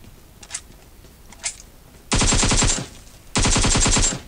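AKM automatic fire in the mobile game PUBG Mobile: two loud sustained bursts of rapid shots, each lasting under a second, after a couple of quieter distant cracks.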